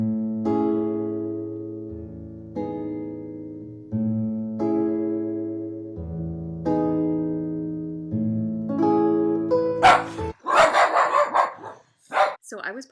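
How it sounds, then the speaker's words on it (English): Dogs woken from sleep burst into a flurry of loud, overlapping barks near the end, following a stretch of steady sustained musical tones. "the dogs woke up out of their dead sleep to start barking"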